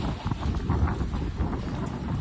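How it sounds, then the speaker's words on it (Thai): Strong gusting wind in a summer storm roars as a steady, close rumble with broadband buffeting against the microphone and no voices throughout. "ลมแรงมากครับลมแรงมาก"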